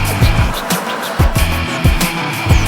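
Tyres on a 2016 Skoda Superb squeal in a series of short repeated chirps as the car turns in, sitting over a steady road and engine hum with no one talking.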